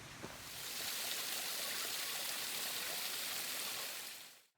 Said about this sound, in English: Past this formation is the first small waterfall.